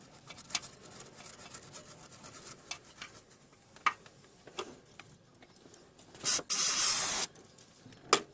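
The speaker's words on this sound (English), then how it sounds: "I'm spraying with a brake cleaner" Quiet clicks and light handling noises, then two bursts of aerosol brake cleaner spraying loudly outdoors during a Holden Cruze 1.8-litre water pump gasket replacement, the second lasting about a second, followed by a sharp tap.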